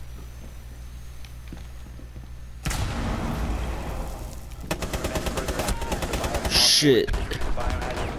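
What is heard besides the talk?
gunfire in a video game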